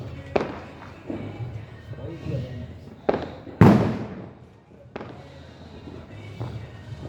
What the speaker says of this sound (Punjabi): ਇੱਥੇ ਪਟਾਕੇ ਚੱਲੇ ਨੇ